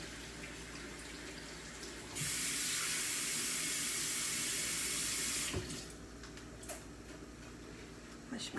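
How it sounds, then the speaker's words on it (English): A kitchen tap runs while hands are washed under it, a loud steady rush of water that starts abruptly, holds for about three seconds and cuts off, with light clatter and quieter room sound before and after. "Wash my hands"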